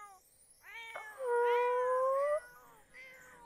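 Cats in The Sims 4 Cats and Dogs game give a few short, high meows, one drawn-out yowling call in the middle, then a softer meow at the end, alone without talk.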